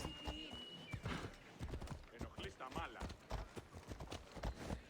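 A horse in the game Assassin's Creed Odyssey clip-clops with quick, uneven hoofbeats under continuous talking, mixed with game sounds and a short whinny-like cry.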